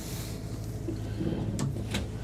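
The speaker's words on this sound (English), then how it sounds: "Another big drawer right there." A big wooden dovetail dresser drawer inside an RV is pulled or pushed, giving two quick sliding knocks near the end over a soft background hum.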